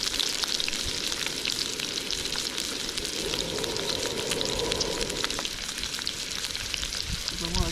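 Food sizzling and frying steadily in a hot pan, a continuous dense crackle at an even level throughout with no talking.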